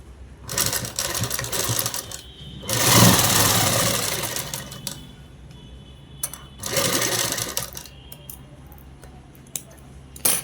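A sewing machine top-stitching the back of a child's frock sewn from a blouse piece, running in several bursts of rapid whirring stitches separated by quiet pauses, close and clear with no talk.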